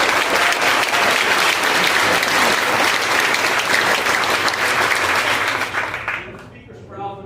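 Dense, loud audience applause fills an election integrity press conference, a continuous wash of many hands that fades out near the end.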